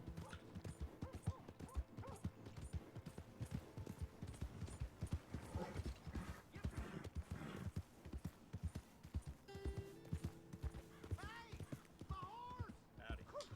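Horse hooves clip-clop at a steady rhythm in the Western open-world game Red Dead Redemption 2, continuing throughout under ongoing talk, with a few other game noises mixed in.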